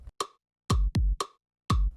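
A kick drum pattern sequenced on an OP-Z synthesizer: five to six punchy, booming low kicks in a steady groove, with a clicky attack on each hit and short sharp clicks between them.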